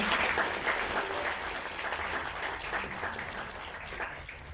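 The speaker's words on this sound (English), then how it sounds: "Let's give another round of applause for Dr. Samuel." Sustained applause from an audience, many hands clapping steadily and loudly, with no break for the whole stretch.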